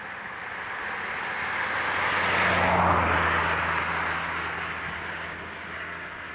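Aer Lingus airliner departing Dublin Airport for Geneva, its jet roar swelling to a peak around the middle and then easing away, with a low engine drone underneath, heard from a moderate distance.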